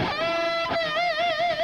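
A sustained electric guitar note bends upward early, then holds with a wide, steady vibrato, ringing clearly with no voices.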